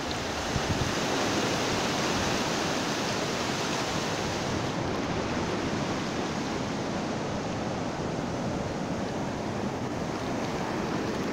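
Sea waves wash onto a beach under an overcast sky, a steady loud roar of surf mixed with wind noise on the microphone, continuous and close with no speech.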